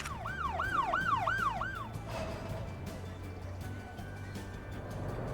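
A wailing ambulance siren in a city-building video game rises and falls in quick repeated sweeps, loud for about two seconds before giving way to a low traffic hum and soft game ambience.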